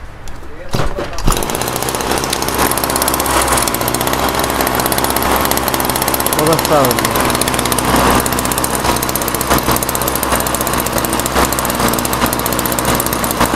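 Small Taiwan water-pump engine fitted with a new carburetor starts after a brief rattle of the pull start, then settles into a loud, continuous, buzzy running drone that lasts throughout, close by.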